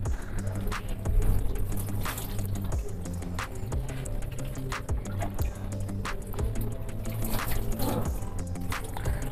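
Water is poured and splashed over a trimmed cat during a medicated antifungal bath at home, giving soft trickles, drips and irregular wet clicks against a low background hum.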